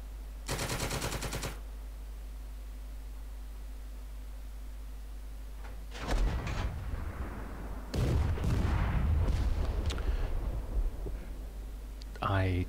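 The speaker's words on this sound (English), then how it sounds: "The computer decided to automatically fire one of our mortars at something it saw moving." Mortar rounds firing in a war video game: a loud, sharp blast of broadband noise, then heavier rumbling blasts a few seconds later, all over a steady low hum.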